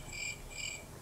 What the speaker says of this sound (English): it's crickets for this toy